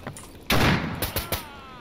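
Gunshots in S.T.A.L.K.E.R. Anomaly, one loud blast followed by a few quicker, sharper shots with ringing decay, close and over low game ambience.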